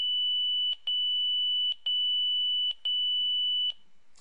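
A Motorola Minitor VI pager alert, set for the 600.9 and 669.0 tone pair, gives a steady, piercing high electronic tone broken by brief gaps into four long beeps, each gap carrying a quick double chirp.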